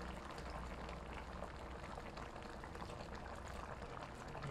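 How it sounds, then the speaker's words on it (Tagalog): Seafood broth with mixed seafood and oyster sauce at a steady bubbling boil in a pot as cornstarch dissolved in cold water is poured in, a continuous close liquid simmer and pour with no voices. "So ilalagay ko na ang cornstarch na tinunaw sa malamig na tubig para maging malapot pa yung sabaw natin dito."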